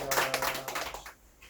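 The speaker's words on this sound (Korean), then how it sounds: "우리 하나님께 영광의 박수를 드리겠습니다" Clapping from a small church worship gathering, a short burst of hand claps up close that fades out quickly.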